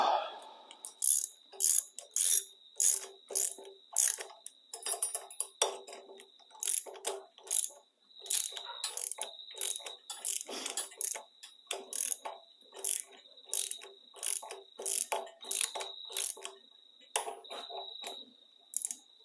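A ratchet wrench with a socket clicks in quick, steady bursts of sharp metallic ticks, close and fairly loud, pausing briefly between runs of cranking.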